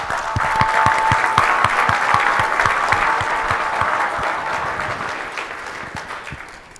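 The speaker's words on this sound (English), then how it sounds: "Another round of applause for them." Sustained audience applause fills a conference hall on mortgage-industry technology, with dense clapping and a few sharper claps standing out, staying loud throughout and easing slightly toward the end, with no talk over it.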